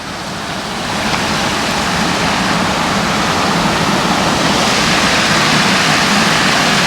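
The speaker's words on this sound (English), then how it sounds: "The water running over stuff like dams and stuff." Water rushing over a small dam at Swan Lake in Sumter, a loud, continuous broadband roar that swells slightly after the first second and holds steady, with no talk.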